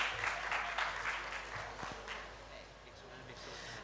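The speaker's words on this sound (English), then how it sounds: "giving Beth a big round of applause as we welcome her on stage" An audience applauds to welcome a keynote speaker onto the stage at a women's leadership summit, a moderately distant patter of clapping that tapers off toward the end.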